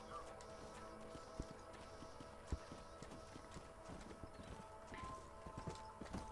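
Horses trotting in Red Dead Redemption on PS3, a steady clip-clop of several hooves moving along at a trot with an occasional sharper hoof strike, fairly quiet and continuous with faint game ambience behind.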